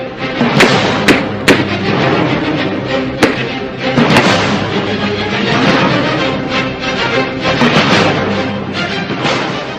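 Bursts of gunfire from modern G3 rifles at a bandit hideout, loud sharp cracks scattered irregularly over a dense, rumbling outdoor background, with no talk.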